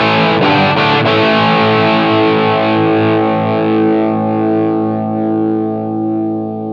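An overdriven electric guitar chord played through a POD Go amp preset with reverb is struck twice, then rings out with a long reverberant tail that slowly fades.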